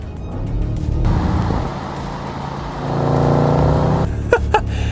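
A 2022 Audi RS Q8 revs its engine loudly and close by, and a series of sharp exhaust cracks and pops comes through near the end as it shifts.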